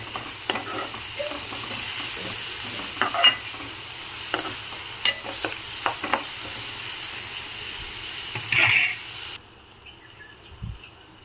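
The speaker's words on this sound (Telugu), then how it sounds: "ఇప్పుడు కొంచెం ఫ్రై అవ్వాలి క్యారెట్." Grated carrot and cashews fry in a pan for a carrot rice dish, giving a faint, steady sizzle broken by scattered scraping and stirring clicks, with no voices.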